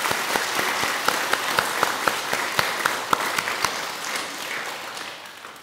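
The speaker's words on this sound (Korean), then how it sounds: "박수 한번 주시겠습니다." Audience clapping at a Buddhist dharma talk, a steady wash of many hands with a few sharper individual claps standing out, fading slightly toward the end, with no voices over it.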